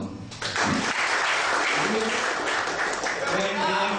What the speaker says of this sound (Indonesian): Ya, tepuk tangan dong.